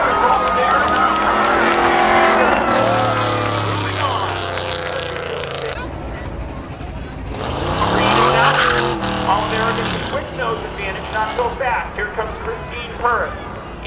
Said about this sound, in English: Ken Mueller gets a good jump in the Sumi. Through turn 2, off of 2, down the backstretch, into 3 and 4